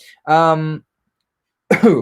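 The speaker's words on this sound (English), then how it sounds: "Cough. Sorry, it's not corona." A single throaty cough up close, followed by a pause and then the start of another short burst of throat noise.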